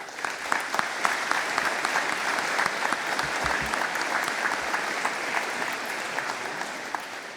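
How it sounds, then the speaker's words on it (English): Sustained, dense applause from a large audience greets graduates at a 48th commencement ceremony, a steady even roar of clapping lasting throughout. "Let us applaud these graduates."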